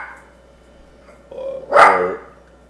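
Indoors, a dog gives a low growl that rises into one loud, close bark, then fades quickly into quiet.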